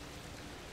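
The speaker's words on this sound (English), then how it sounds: "I don't know what's going on in my game, but it never stops raining" Rain falls steadily in the Disney Dreamlight Valley video game, a soft, even hiss that stays faint and unbroken through the short moment.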